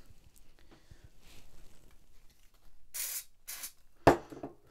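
Two short bursts of Mr Sheen polish sprayed from an aerosol can onto a Panasonic SJ-MJ50 MiniDisc player, close and fairly quiet, then a sharp knock, with no one talking.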